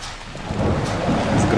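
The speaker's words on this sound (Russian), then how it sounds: "Ой, промозглый дождь, какой ненавижу." Rain and a thunder rumble in the horror game Haunt, a low rolling growl swelling under a steady hiss of rainfall, growing louder toward the end and heard alone.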